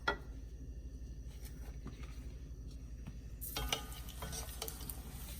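A corn tortilla dipped briefly into very hot frying oil, a faint steady sizzle that swells into a brighter crackle partway through, close and quiet.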